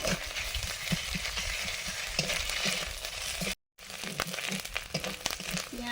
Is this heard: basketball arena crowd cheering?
no